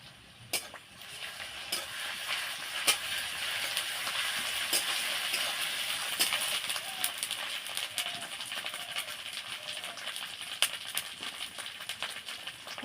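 Ginger-garlic paste fries in mustard oil over browned onions, giving a faint, continuous sizzle with scattered crackles and occasional stirring clicks.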